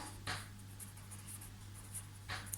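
A pen writes on paper in a few short, soft scratching strokes over a quiet room hum, near and faint, with no voice.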